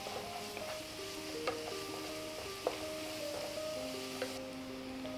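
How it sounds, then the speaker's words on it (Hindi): Garlic ginger paste and onions sizzle steadily in a pan during Palak Paneer preparation. The frying is soft and continuous, with a few light clinks of stirring. "अब हम इसमें लहसुन अदरक की पेस्ट डाल लेते हैं और इसे भी मिला लेते हैं"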